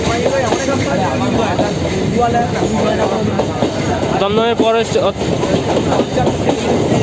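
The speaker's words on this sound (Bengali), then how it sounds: "দমদম জংশন থেকে আমাদের ট্রেনটা ছেড়ে দিয়েছে" A MEMU passenger train leaving Dum Dum Junction on the Sealdah to Naihati line rumbles and clatters steadily along the tracks, loud and close, while someone talks over it.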